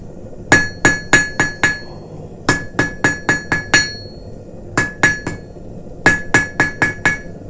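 A steel taper hammered on an anvil while forging a Christmas ornament: crisp, ringing hammer blows close by, falling in quick groups of four to six with short pauses between.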